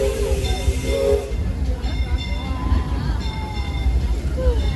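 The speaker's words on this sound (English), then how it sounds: "Steam whistles are also just super awesome." A steam train whistle sounds in short tonal blasts over the rumble of rail cars on the Disneyland railroad, with a voice talking underneath.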